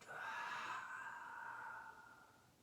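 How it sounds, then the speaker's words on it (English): A long, audible exhale during a hatha vinyasa yoga session, a single breathy rush of air that swells early and gradually tapers away, quiet and close with no talking. "I am breathing loud so you can hear me."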